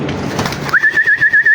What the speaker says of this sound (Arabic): حبيت اصور لكم الحمام تشوفون سرعتهم